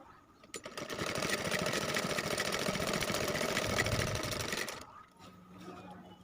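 Electric sewing machine stitching seams on a cloth bag made from old trousers, a steady close whirring run of about four seconds that starts abruptly and stops, followed by a quieter low hum.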